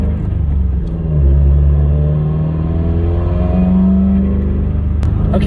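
Inside a Subaru WRX on the road with a Torque Solution pitch stop fitted, the engine gives a steady low rumble and drone that rises and eases with throttle, loud and continuous throughout.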